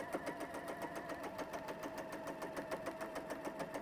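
Sewing machine stitching fabric around curves, a fast steady chattering run of needle strokes, close and continuous with no pauses or talking.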